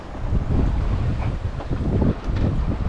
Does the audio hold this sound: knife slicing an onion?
no